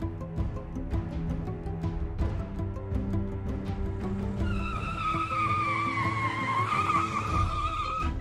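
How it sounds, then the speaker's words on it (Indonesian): A stolen police car tears away with tires skidding and squealing in a long rising screech over a steady roaring engine in a children's cartoon, loud and close. "Pencuri mengambil mobil polisi dan kabur."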